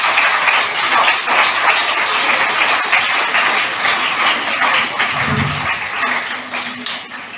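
Steady broadband clapping from a seated audience at a behavior change communication seminar, dense and continuous for several seconds before thinning out near the end.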